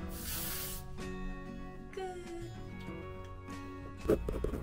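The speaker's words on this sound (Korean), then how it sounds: "스프레이를 뿌려서" Hair spray hissing from an aerosol can while fringe and pinned-up hair are set, a steady broadband spray that fills the opening second and recurs in short bursts, close by amid faint background music.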